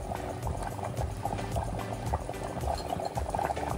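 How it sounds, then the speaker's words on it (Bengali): A pot of country chicken curry boiling hard, a continuous bubbling and gurgling close by, steady and moderately loud, with no voices. "মাংস ফুটে গেছে"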